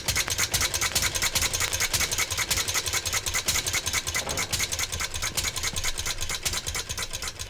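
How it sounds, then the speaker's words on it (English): A loud, steady early motor car engine chugs and rattles continuously, a rough idling rumble with rapid regular ticking throughout. "He started the engine, making a thunderous noise."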